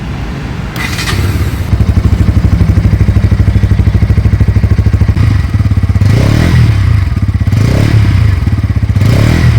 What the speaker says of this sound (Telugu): ఈ బైక్ ఎగ్జాస్ట్ నోట్ అయితే వినండి.